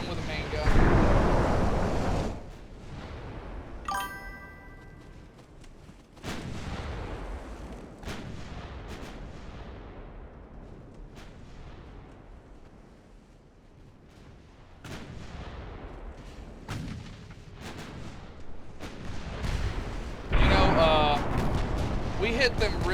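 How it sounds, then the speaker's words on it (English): Heavy battleship main-battery salvos in the naval warfare game Ultimate Admiral Dreadnoughts, several deep booming blasts with rumbling tails spread across the span, the loudest at the start and near the end, with a voice talking in between. "It took a main caliber round from the battleship."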